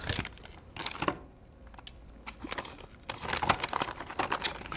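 Keycaps being pulled off and swapped on a KC84 keyboard, a close, irregular run of light plastic clicks, taps and rattles at moderate volume.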